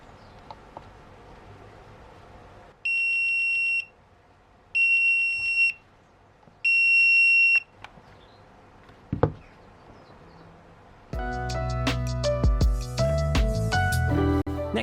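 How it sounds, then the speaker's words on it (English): A Sofabaton U2 universal remote, set off from its hub, gives three loud, shrill beeps in evenly spaced bursts against a quiet room, followed by a sharp knock and then a louder, busier stretch of sound. "If you lose your remote, just press the button on the back of the hub and the remote makes a loud beep."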